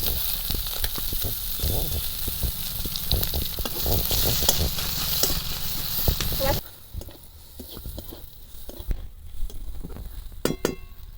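Chopped onion hits hot oil already spiced with five-spice and dried chilli, giving a steady crackling sizzle with scattered clinks and stirring in the first half, then a quieter, thinner fry toward the end.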